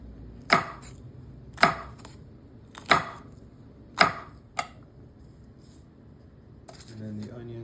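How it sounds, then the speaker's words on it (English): A knife chops jalapeños on a cutting board in a home kitchen with four or five crisp, evenly spaced thuds, close and clear with quiet pauses between, and a low voice at the end. "So I'm cutting up the jalapenos."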